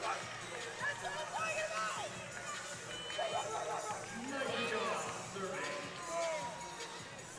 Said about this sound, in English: the Bren Events Center in front of a raucous UC Irvine home crowd